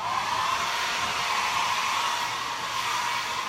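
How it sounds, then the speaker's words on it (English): A hair dryer roars steadily on a high setting, a loud, constant airy whoosh with a faint whine running through it, no voices. "Good old fashioned hair dryer. Put that on your high setting or the hot."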